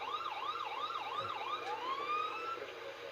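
A Quebec ambulance siren in Grand Theft Auto V sweeps up and down repeatedly, then shifts into a long rising tone, steady and fairly close with no talking.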